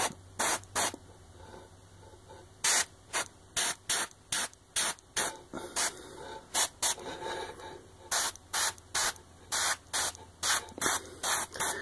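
Transparent paint sprayed onto a miniature in short, sharp hissing bursts, repeated about twenty times in an uneven rhythm with brief quiet gaps, close and alone without talk.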